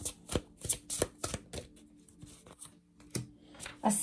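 A deck of fairy oracle cards is shuffled by hand in quick, crisp riffling bursts, close and fairly loud, repeating in an uneven rhythm with brief pauses between snaps.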